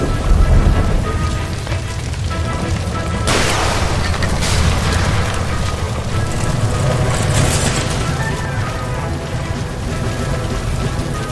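A gas line explosion in LA Noire lands as a sudden broadband burst, then a sustained roaring, crackling rumble of fire and debris that continues loudly for several seconds.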